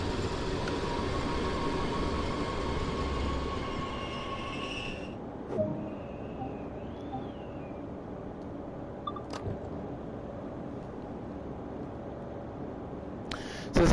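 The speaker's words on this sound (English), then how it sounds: "Have you ever seen a train move this slow into a station?" Slow train pulling into a station in Train Sim World 2020, a steady low rumble of wheels and engine that drops away partway through, leaving a quieter hum with faint squeals and a couple of short knocks.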